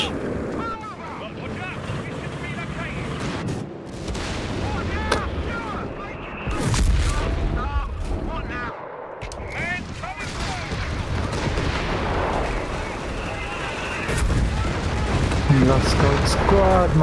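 Explosions and artillery barrages from a bombing run in the strategy game Company of Heroes 3, a dense, continuous roar of blasts and gunfire with louder bursts near the middle and end, while a voice talks over it.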